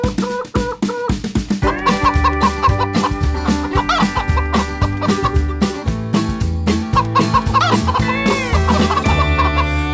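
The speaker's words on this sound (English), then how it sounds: "With a cluck cluck here and a cluck cluck there, here a cluck, there a cluck, everywhere a cluck cluck." Cartoonish chicken clucks in a children's Old MacDonald farm song, repeated in a bouncy rhythm over loud upbeat music with bass and percussion.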